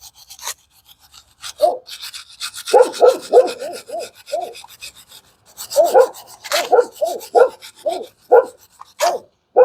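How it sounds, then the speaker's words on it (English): A wire brush scrubs rust off the rear brake caliper bracket of a 2022 Ford Explorer XLT, close rhythmic raspy strokes in two bursts separated by short pauses. "Give it a nice brushing."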